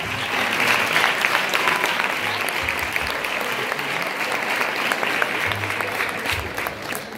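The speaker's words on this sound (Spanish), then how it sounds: "podríamos darle un fortísimo aplauso a Cristina y a Blanca" Audience applause for Cristina and Blanca at a university campus festival in Segovia, a dense, steady wash of many hands clapping that carries on strongly throughout with no talk over it.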